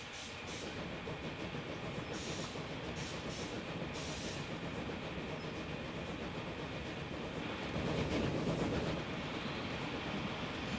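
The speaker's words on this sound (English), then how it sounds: "There it is right there. There's our train." A train rolls along steadily in the railway-building game Transport Fever, a continuous rumbling clatter with faint hiss that holds at an even level and swells briefly near the end, with no talking.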